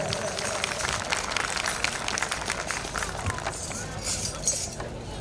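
Loud rapid clapping from the audience at a devotional bhajan evening by a bhajan mandal, a dense wash of hand claps that thins toward the end with some voices mixed in.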